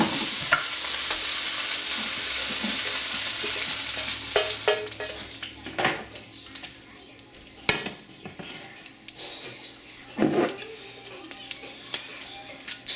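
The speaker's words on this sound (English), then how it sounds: "after that's had a chance to cook for a few minutes, take the broccoli out of the pan" Broccoli cooks in an oiled pan with a steady background sizzle, overlaid by scattered scraping and clinking of a utensil against the pan and cookware. No talking.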